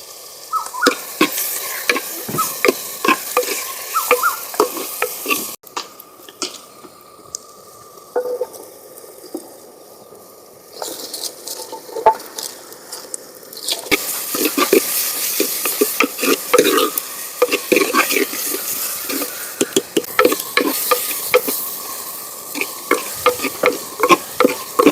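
Onion, tomato and turmeric fry and sizzle steadily in a pan while a spoon stirs and scrapes repeatedly through the mixture, close and fairly loud, with no talking.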